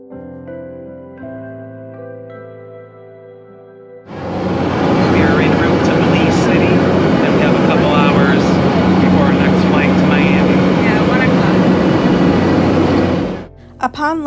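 A small passenger plane in flight on a short island hop: a loud, steady engine and cabin roar fills the clip after a quieter musical opening, with faint voices underneath.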